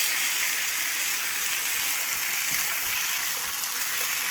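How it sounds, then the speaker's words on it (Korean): Squid stir-fried in a pan beside pork belly for spicy squid-and-pork bulgogi, giving a steady, close sizzling hiss that holds evenly throughout with no talking. "오징어를 먼저 이렇게 살짝 볶아준 다음에"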